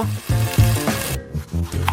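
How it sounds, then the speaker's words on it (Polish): Spiral-cut potatoes drop into boiling oil, giving a crackling sizzle with rough stirring and scraping noises in uneven bursts and no talk. "A teraz wrzucamy wszystko do wrzącego oleju."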